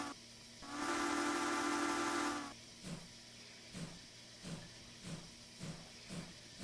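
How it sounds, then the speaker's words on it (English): A steam locomotive in a train simulator game lets out one loud, sustained hiss of steam, then soft rhythmic chuffs from the cylinder cocks repeat about once a second. "Now you notice that I do have steam kind of popping out on either side of the locomotive."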